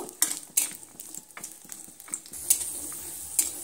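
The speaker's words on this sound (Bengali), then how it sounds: "এবার আমি কাজু বাদামগুলো লো টু মিডিয়ামে আঁচে দিয়ে সুন্দর একটু লালচে রং ধরিয়ে নেব।" Cashew nuts frying in ghee over low to medium heat in a pan, with soft sizzling under clinks and scrapes of a spoon stirring against the metal, several sharper taps standing out.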